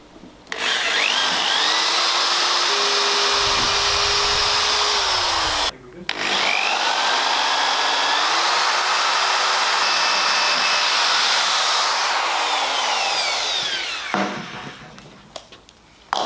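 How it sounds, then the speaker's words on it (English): A power drill boring holes into a workbench through a steel plate, a loud, sustained whirring whine that stops briefly, starts again and winds down near the end. "now we've drilled those 5 holes into the bench using the plate as a pilot"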